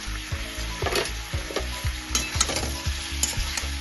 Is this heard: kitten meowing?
no